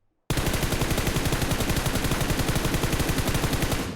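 Rapid automatic gunfire in PUBG Mobile, a loud, dense burst of evenly spaced shots starting abruptly after a brief silence and continuing unbroken to the end.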